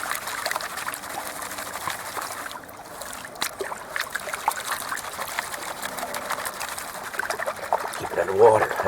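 A gold claw pan is shaken underwater in a stream, giving a busy watery sloshing and trickling with gritty rattles of gravel, close and continuous, rising slightly near the end.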